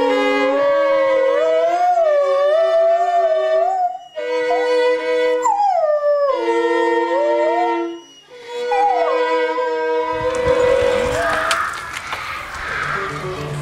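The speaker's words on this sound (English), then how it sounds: "That's Sarah, the family dog, not at all pleased that she hasn't had her walk this morning." A family dog named Sarah howls and yips in long, wavering, mournful cries, loud and close, broken by brief pauses, with a burst of noisy rustling near the end.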